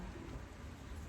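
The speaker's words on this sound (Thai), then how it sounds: "ฝนมาอีกแล้ว" Steady rain patters down on a home balcony, a dense, even hiss of drops with no voices.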